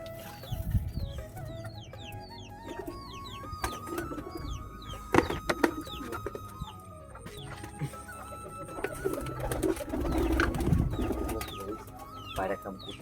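Domestic pigeons being fed paddy and wheat give off soft, repeated coos and bird calls, mixed with clucking and scattered clatter from the feeding, all at moderate level without speech.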